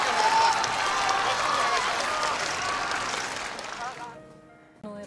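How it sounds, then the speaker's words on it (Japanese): An audience at a horse racing event gives a jockey a big round of applause for his G1 win, dense steady clapping that fades out over several seconds into near silence. "大きな拍手をお願いします。"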